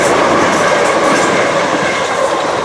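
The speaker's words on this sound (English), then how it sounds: "I believe that's the Faversham shuttle train" A Class 375 electric shuttle train rolls steadily past up close toward Dover Priory, a dense continuous rumble with faint clickety-clack of wheels on rails throughout.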